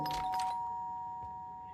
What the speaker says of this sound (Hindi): भाई घर की घंटी किसने बजाई?